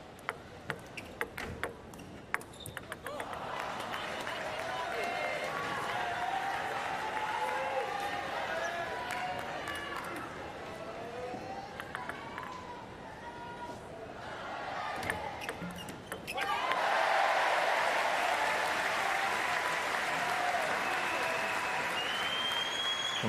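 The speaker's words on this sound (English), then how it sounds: "Will the noise and the encouragement from the French crowd be the difference in this 5th game?" Crowd applauding and cheering through a para table tennis standing singles semi-final, a steady roar with scattered claps that swells louder near the end, with commentary over parts of it.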